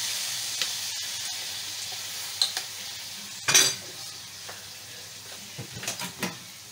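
Rice stir-fried in a hot pan just after soy sauce goes in: a steady sizzle with a spatula scraping and knocking against the pan now and then, louder clatters near the middle and the end.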